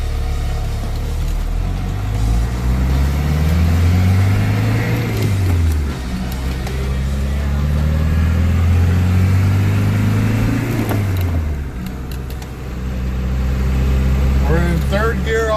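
1972 Mercedes-Benz 220d W115 with a swapped 240d diesel engine and a four-speed gearbox, driving with a loud, close, gruff drone that climbs in pitch through each gear and dips at the shifts, as someone speaks over it.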